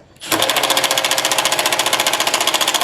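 Milwaukee M12 cordless tool snugging a front strut bolt on a Hyundai Sonata or Kia Optima, starting abruptly with rapid, evenly spaced hammering pulses, loud and close, running steadily to the end.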